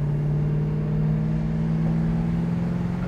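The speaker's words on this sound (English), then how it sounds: "Good thing we got some power under the hood of this Duster so we can merge in this traffic." A 1972 Plymouth Duster's engine drones steadily from inside the car as it accelerates to merge into traffic, a loud, continuous low hum with no voices over it.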